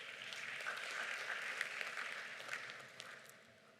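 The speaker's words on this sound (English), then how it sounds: "Please give the former president another round of applause" Conference hall audience applauding a former Ethiopian president at an African Union high-level dialogue panel in Accra, a steady wash of many hands clapping that is fairly distant and fades out toward the end.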